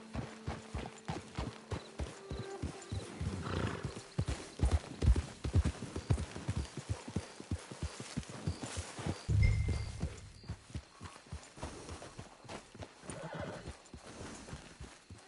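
A horse walks with steady clip-clop hoofbeats close by, punctuated by a couple of whinnies, the footsteps continuing in an even rhythm throughout.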